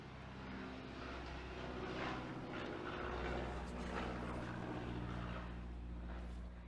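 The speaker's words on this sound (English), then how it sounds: "There's an aeroplane going over that sounds like a fart." An aeroplane passes overhead near an airfield, giving a low, steady droning rumble with a faint rising and falling swell. It carries on throughout the clip with no talk over it.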